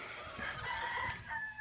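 Chickens in a backyard garden cluck and crow steadily for a moment, fairly close and clear, with no one talking.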